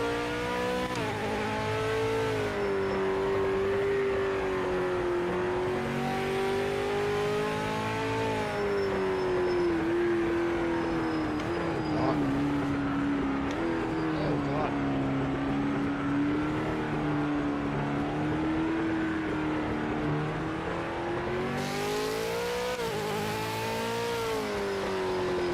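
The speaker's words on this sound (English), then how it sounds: "Sounds like a V8 when it takes off." A V8 car engine in a PMR racing video game roars continuously, its pitch rising and falling as the car accelerates and shifts, loud and close throughout with no talk.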